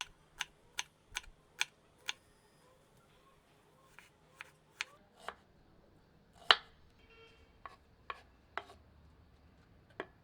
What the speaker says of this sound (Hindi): दो मध्यम आकार की प्याज को